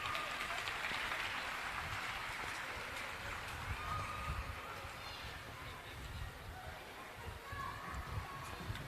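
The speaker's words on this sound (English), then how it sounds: "A big round of applause" Steady, dense applause from an audience honoring students at a St. Paul's Public School event, a continuous wash of clapping with some voices mixed in.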